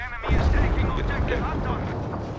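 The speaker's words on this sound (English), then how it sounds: "That is a bomb. Very big bomb." A very large bomb explodes in Battlefield V with a sudden deep boom that rolls into a sustained, loud rumble lasting a couple of seconds, while a voice talks over it.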